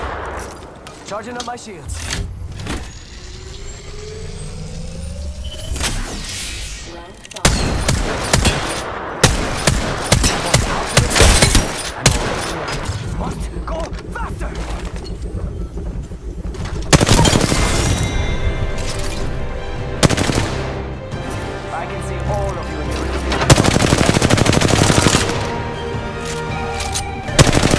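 In the video game Apex Legends, loud bursts of rapid gunfire and booming impacts come in waves, with a character's voice speaking briefly over the shooting.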